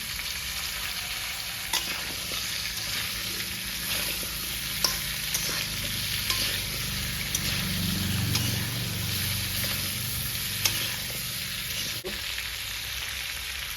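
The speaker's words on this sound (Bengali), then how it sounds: "আলুটা ভেঙে দেবো সে একসঙ্গে ভেজে নেবো আর পেঁপেটা দিয়ে দিচ্ছি" Potato and papaya frying together in a pan for a village-style fish curry, a continuous hiss of sizzling oil with occasional sharp clicks of a utensil against the pan, steady and close.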